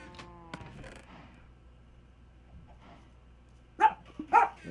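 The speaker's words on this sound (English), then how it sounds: "doggies, please stop barking. Nobody wants to hear you bark." A couple of short dog barks near the end, moderately close, during PS4 Minecraft gameplay, following a quiet stretch with faint clicks and a brief tonal sound at the start.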